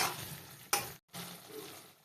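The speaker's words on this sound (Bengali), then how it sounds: "এভাবে করে কিছু সময় ভেজে নেব" Quiet sizzling of spices frying in a pan for fish kosha, broken by a stirring scrape and a brief pause before the soft frying resumes.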